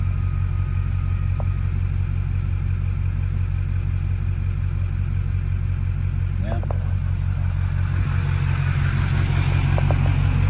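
A 2003 Chevrolet 2500HD truck with a 6.6-litre Duramax diesel turns over and settles into a steady, loud, clattery idle. The low engine rumble runs nonstop and fills the whole span.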